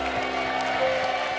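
Studio audience applause on a TV talent show, a dense, steady wash of clapping over a low musical backing.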